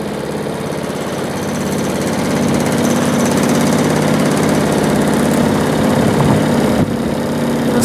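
A motorboat engine drones steadily and loudly nearby on water with geese, a constant rumbling hum that holds throughout without pause.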